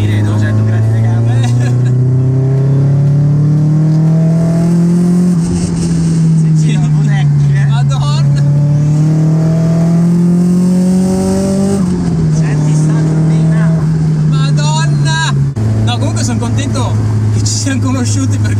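A car engine revs and climbs through gears, pitch rising and dropping with each shift, loud and close, with people talking over it.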